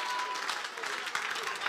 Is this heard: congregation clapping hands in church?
yes